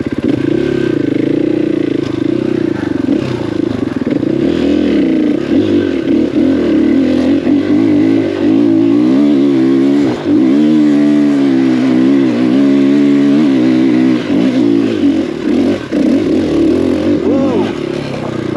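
KTM 500EXC-F dirt bike revving hard in third gear, a loud, continuous close engine roar that rises and falls in pitch, with a rider's voice breaking in over it.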